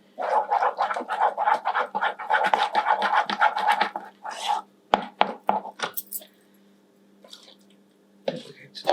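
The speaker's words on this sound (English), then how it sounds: "Mixing away." Lasagne ingredients mixed in a bowl by hand, rapid scraping and stirring strokes in quick rhythm for several seconds, then sparser taps and clinks trailing off into near silence.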